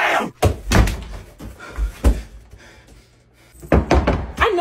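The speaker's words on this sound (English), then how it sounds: "Wait, don't shut the door." A classroom door is shut with a few dull thunks and a slam, the impacts standing out briefly in an otherwise quiet room.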